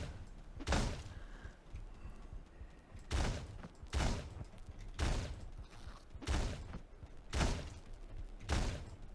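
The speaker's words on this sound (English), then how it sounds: "Shotgun!" Shotgun firing in the video game Teleglitch, six heavy booming blasts spaced about a second apart, each with a short decaying rumble, loud and close with no talk over them.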